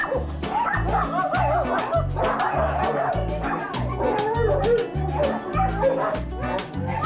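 Many dogs at a rescue centre that houses over 30 dogs and 70 cats bark repeatedly and loudly up close, a dense, overlapping chorus of barks, yips and whimpers with a voice speaking over it.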